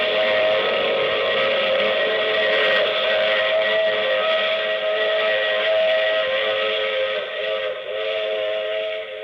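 A steam train whistle used as a radio drama sound effect, one long, loud, sustained tonal blast with several harmonics that wavers slightly near the end and carries nothing else alongside it.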